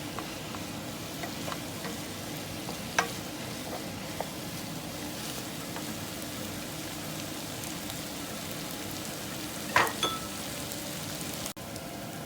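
Paneer cubes frying in oil in a pan for chilli paneer, giving a steady, soft sizzle with scattered small pops and crackles throughout, close by and alone.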